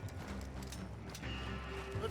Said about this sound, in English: We can take the horses from that coach!